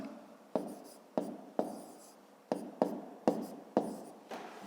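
A pen writes a column multiplication by hand on paper, a close series of about eight short scratchy strokes, each starting sharply and trailing off, in a quiet room.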